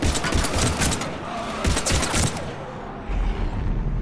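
Bursts of gunfire in a war video game, several rapid volleys in quick succession, loud and close, with a brief lull before another heavy burst near the end.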